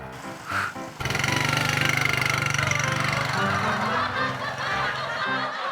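An ojek driver's motorcycle engine starts after a second of voices and laughter, then runs with a loud, steady, rapid chugging that eases slightly toward the end.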